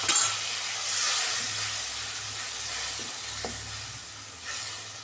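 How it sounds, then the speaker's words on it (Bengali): A spice paste hits a pan of fried ginger with a loud, steady hissing sizzle that gradually settles, with a few soft clinks of utensils. "এই মশলাটা করে রেখেছিলাম দিয়ে দিচ্ছি"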